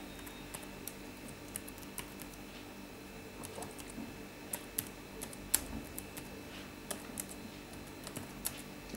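Keys clatter on the detachable keyboard of an ASUS Eee Pad Slider tablet, a quiet run of irregular clicks with a few sharper taps standing out over a low room hum.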